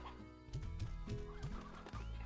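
A rooster in the video game Slime Rancher gives a series of close, rhythmic clucks, four or five short bursts in quick succession over a faint musical background.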